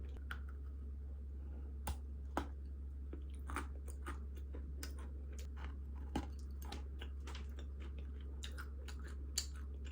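Crunchy chocolate crumble being bitten and chewed close up, with scattered sharp crackling bites over a steady low hum and no talking.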